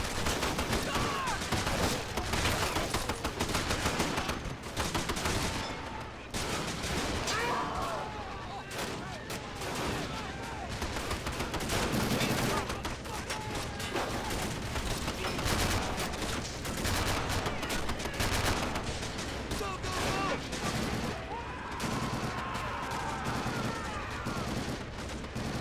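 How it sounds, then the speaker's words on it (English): Machine gun fire in a Pacific war video game mod during a Marine assault on Tarawa Atoll: dense, continuous bursts and distant explosions roll through the whole stretch, with a voice talking over the battle noise. "these machine guns are still active"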